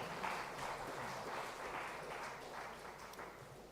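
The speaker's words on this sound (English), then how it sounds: "Let's welcome him with a round of applause." A conference audience applauds as a company CFO takes his place on the dais, a faint, distant, continuous patter of clapping that stays level without cheers or voices.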